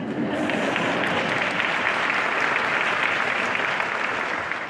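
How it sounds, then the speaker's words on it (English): An audience at a mayor's State of the City address in Akron, Ohio applauds steadily and loudly, a dense wash of clapping that holds for several seconds without pause. "You can clap, please."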